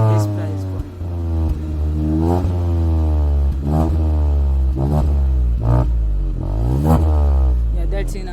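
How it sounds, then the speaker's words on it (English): Repeated revs of a Hyundai i20 N Line through its sports exhaust, about six rising-and-falling blips over a steady close idle, with a voice talking throughout. "This is a proper sports exhaust which you get for this car at this price point."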